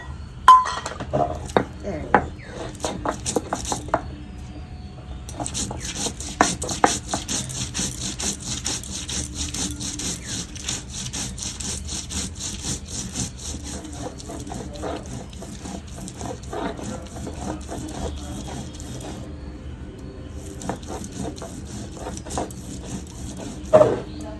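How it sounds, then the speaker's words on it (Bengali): Ginger, garlic and cumin being ground together into a paste, a steady rough scraping and rubbing that repeats throughout with occasional sharper knocks, fairly faint. "আদা রসুন জিরে সব একসঙ্গে বেটে নেবো"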